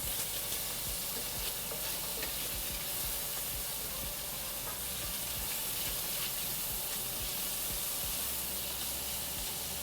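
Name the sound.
stirring browning breakfast taco filling in a pan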